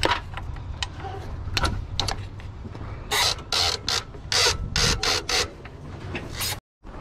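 Ratchet wrench loosening tight nuts on a ute engine during fan and pulley removal, heard as ratcheting bursts that grow into several loud, rhythmic clicking runs in the second half, then a short pause.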